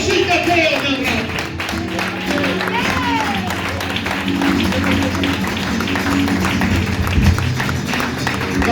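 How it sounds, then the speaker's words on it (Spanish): A church congregation applauds during a sermon, with continuous loud clapping and crowd noise that runs the whole time beneath voices and calls. "Más fuerte si fuera ese aplauso para el Señor."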